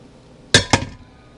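Two quick close metallic clinks, a short pause between them, as a whisk beater is scraped and knocked against a bowl to get homemade butter off it, with a faint quiet after.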